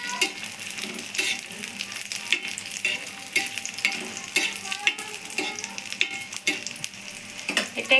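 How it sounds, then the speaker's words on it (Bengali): Moglai frying slowly in hot oil over a low gas flame, a steady close crackling sizzle with frequent sharp pops and spatters throughout, no voices. "তো আবার আস্তে আস্তে ভাজা হচ্ছে।"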